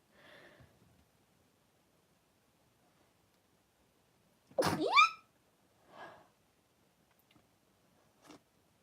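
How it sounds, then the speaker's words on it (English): A single loud, sharp sneeze bursts out mid-clip, bracketed by a few soft breaths and small rustles in an otherwise quiet room. "now I'm gonna sneeze."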